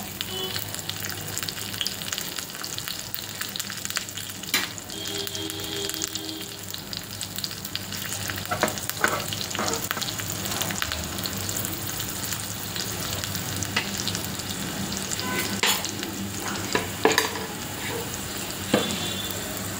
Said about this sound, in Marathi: फोडणी आहे ती याच्यावरती ओतून घ्यायची आहे आणि छान मिक्स करून घ्यायची आहे.